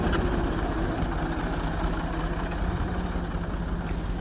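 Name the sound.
tractor engine driving through a rice field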